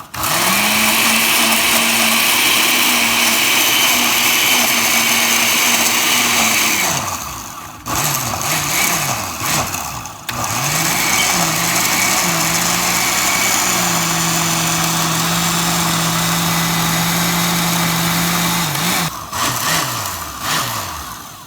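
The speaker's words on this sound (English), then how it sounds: "I'm about to go ahead and just blend this up." A blender whirs loudly through jerk seasoning in long sustained runs, briefly stopping and restarting twice with pitch shifts as the blade spins up, no talk.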